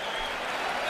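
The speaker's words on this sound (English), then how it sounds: "They're cheering everything." A packed Madison Square Garden crowd applauds and cheers steadily at a middleweight title boxing match, a dense, loud, continuous roar of clapping and shouting filling the whole moment.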